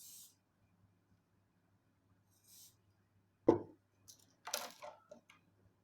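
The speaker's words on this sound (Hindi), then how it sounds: "shine spray" Shine spray misted onto styled bridal hair: a quiet background carries a few faint short hisses, followed by a sharp click and a couple of brief spray bursts near the end.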